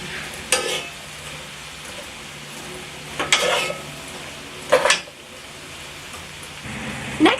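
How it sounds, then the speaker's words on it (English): Beef stew in a pot being stirred, a soft bubbling background broken by three or four separate spoon scrapes and knocks against the pot, close and fairly loud, with no talking. "Now we're just going to give that a stir."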